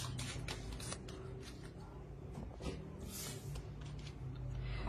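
Oracle cards of elemental beings are shuffled by hand in steady, continuous riffling and sliding, close to the microphone and without talk, under a low background hum.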